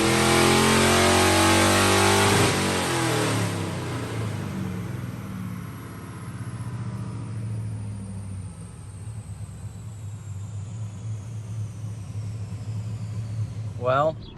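A modified car engine on a dyno: a loud, high rev at the start winds down over a few seconds into a lower, steady rumble that settles and lingers, with a brief clatter at the very end.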